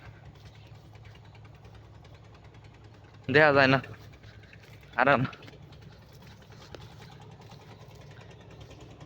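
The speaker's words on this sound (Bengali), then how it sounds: "একটা নৌকা যাইতেছে, একটা নৌকা যাইতেছে" A boat engine passes on the Shitalakshya river, heard as a faint, distant, low steady drone across the whole stretch. Two brief bursts of nearby talk interrupt it.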